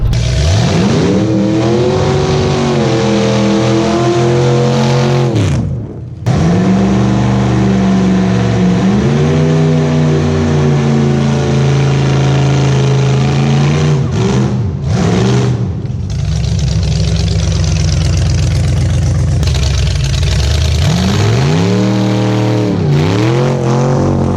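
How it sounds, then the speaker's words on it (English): A street legal drag car performs burnouts, its engine roaring loud and close, revving up and down repeatedly with brief drops in between and tire noise mixed into the sustained blare. "just practicing his burnouts"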